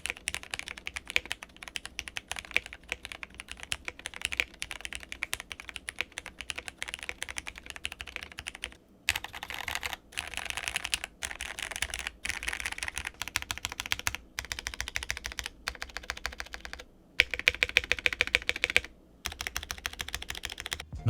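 A mechanical tenkeyless keyboard with case foam installed, typed on in fast continuous bursts of clacky keystrokes with a few short pauses, close and fairly quiet, with no talking.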